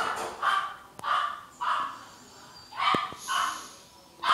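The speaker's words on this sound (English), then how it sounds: "Sorry, that's my dog." A pet dog barks indoors, about six separate woofs in an uneven run over a few seconds, moderately close and fairly faint, with no speech over it.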